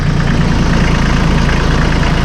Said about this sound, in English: We'll just take a cycle here at idle speed.